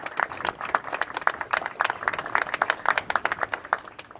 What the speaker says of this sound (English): how about a round of applause to all that worked on this project